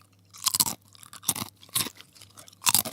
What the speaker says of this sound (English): Listen to the sound of this crunch.